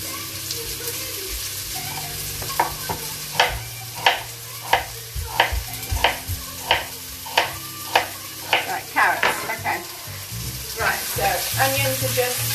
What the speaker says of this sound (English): Onions are just frying off a little bit.